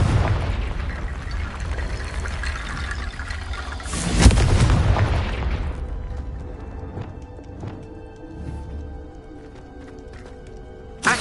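Confringo fire spells burst in Hogwarts Legacy, one loud, close explosive blast standing out amid a dense rumble of spellcasting and battle noise that fades into quieter ambience.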